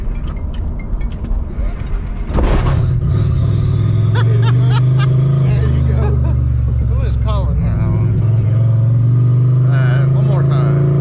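Supercharged Ford F150 V8 with VMP Odin supercharger cranking, then catching and running roughly with an uneven misfire, loud and close, with people talking over it.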